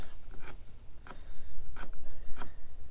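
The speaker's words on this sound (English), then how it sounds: "I'm just going to use this board and cut it up to little bitty chunks" Knife chopping garlic into small chunks on a cutting board, four spaced, crisp cuts at a slow steady rhythm, close and fairly clear over a low background hum.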